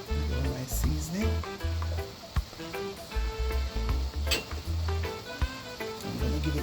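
Lasagna sauce sizzles in a pan as it is stirred, a steady frying hiss with scraping stirs, heard under a voice and background music.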